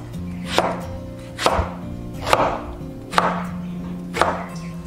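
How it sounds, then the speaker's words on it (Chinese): A knife cuts a washed eggplant into long strips on a board, five evenly spaced, crisp chops about a second apart, close and clear with quiet gaps between, no talking. "洗净的茄子切成长条"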